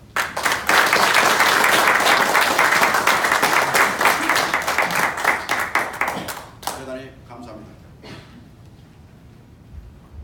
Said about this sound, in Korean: 김진호 회장님의 미 서부지회 방문을 환영하는 큰 박수로 오늘의 행사를 시작하겠습니다.